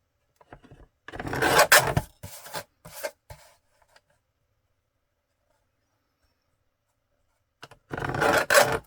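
Paper journal card stock being trimmed down with a few short scraping, rubbing strokes near the mic, separated by a long quiet gap before a final burst of cutting.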